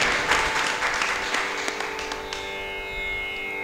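An audience applauds at a Carnatic music concert, a dense, fairly even patter of many hands clapping that slowly thins toward the end, heard from within the hall.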